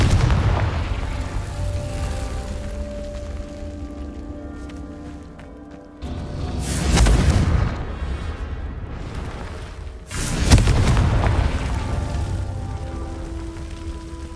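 Confringo blasting spells explode in the Hogwarts Legacy video game, two loud booming blasts with long rumbling tails rising out of a steady low background of game ambience.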